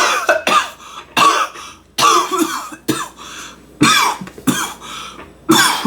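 Repeated harsh, close coughing fits from smoking weed, several bursts in a row with brief pauses between, loud and raspy, no talking.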